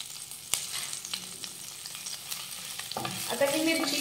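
Green chilies and garlic frying in oil for sevai upma, a close crackling sizzle with spoon stirs and clinks that grows louder and brighter toward the end.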